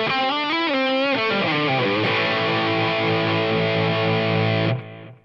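Distorted electric guitar with a Soldano-style amp tone, heard through a Line 6 Powercab 112 vintage speaker model: a few quick gliding notes, then a sustained chord that rings loud before being cut off.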